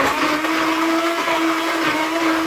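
An electric stick blender mixing soap batter, a loud, steady whirring motor drone with a constant pitch, close up and continuous with no speech.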